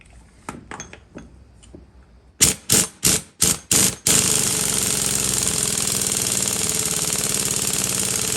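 A ratchet or impact tool tightens the pitman arm nut on the front suspension of a 1964 Chevelle: light ticks, then several loud hammering bursts, then a sustained rapid rattling that runs to the end.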